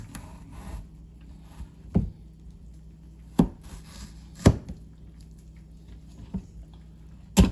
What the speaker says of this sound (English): And our third carrot. What I'm going to do is I'm just going to cut them long ways.